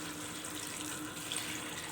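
Tap water runs steadily into a cooking pot of fava beans, spices and greens, a constant close hiss and splash with no pauses and no talking.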